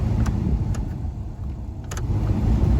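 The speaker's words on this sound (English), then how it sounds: "we're gonna turn it on, and the fan is working" The heater blower fan of a Mazda B2300 pickup runs with a steady low whooshing rumble inside the cab, close and constant, with a few faint clicks over it.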